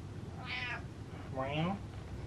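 A cat meows twice indoors, two close, clear mid-pitched meows about a second apart over quiet room tone.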